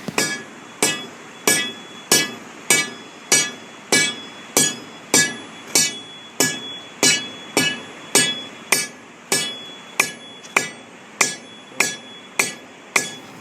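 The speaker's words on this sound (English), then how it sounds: "sand on the delaminated section will jump when the delamination is struck." A hammer strikes a delaminated concrete deck in steady, evenly spaced blows, about sixteen sharp ringing impacts with short decays, close and loud with no talk.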